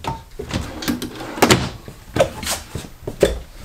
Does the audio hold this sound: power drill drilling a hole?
no